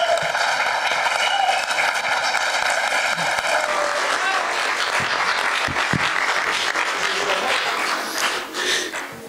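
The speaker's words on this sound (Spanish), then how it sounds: "Vamos a recibirlo con un fuerte aplauso." Audience applause at a university lecture as a keynote speaker is welcomed: a dense wash of clapping from a seated crowd, fairly loud and sustained, with a steady tone running under its first few seconds.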